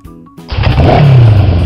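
A brief tone gives way to a motorcycle engine roaring to life, climbing into a loud, rising rev that stays strong to the end, with no one speaking.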